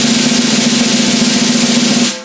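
A continuous snare drum buzz roll, dense and even for about two seconds before stopping abruptly.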